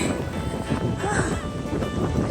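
Steady wind roars and buffets the microphone throughout, a constant low rushing noise from cycling into a headwind.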